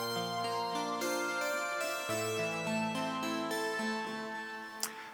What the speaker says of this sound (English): So first we have the Polybrute, which sounds like this.